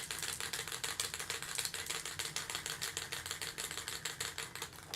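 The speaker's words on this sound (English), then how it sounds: "the problem with spray primer, gotta really shake it up" A can of spray primer is shaken hard up close, its mixing ball rattling in a fast, even, loud rhythm that runs without a break, with no voices.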